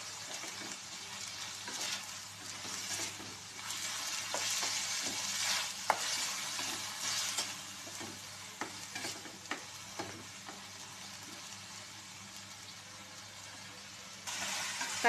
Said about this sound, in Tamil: தக்காளி ஒரு 2 நிமிஷம் நல்லா வணங்கணும்.